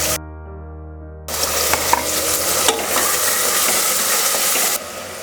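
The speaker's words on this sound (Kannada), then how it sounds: "ಈಗ ಇದಕ್ಕೆ ತೊಳೆದಿಟ್ಕೊಂಡಿರೋ ತರಕಾರಿ ಹಾಕ್ಕೊಳ್ತಾ ಇದ್ದೀನಿ." Washed green beans, carrots and peas tipped into a hot oiled pan for veg soya pulao, loud sizzling frying with stirring scrapes that starts after a quiet opening and runs steadily before easing off.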